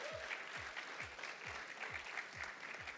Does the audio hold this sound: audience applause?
yes